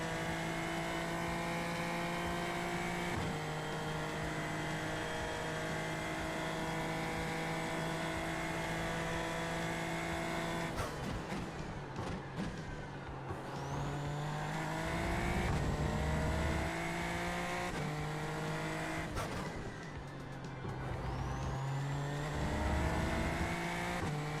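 Race car engine in the iRacing simulator droning at high revs, with repeated gear changes and downshifts that drop and surge the pitch, loud and continuous throughout.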